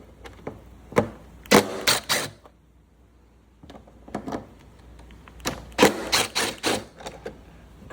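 T25 Torx bolts being loosened on a 2025 Harley-Davidson Road Glide, heard as two bursts of sharp, close clicking and creaking taps separated by quieter pauses.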